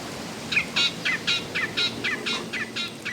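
A yellow, talkative bird with brown wings calls in a quick series of about ten bright chirps, fairly close and clear over a faint outdoor background.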